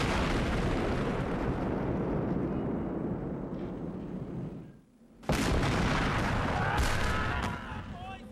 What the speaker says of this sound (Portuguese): Dúzias de canhões miravam as tropas que se aproximavam.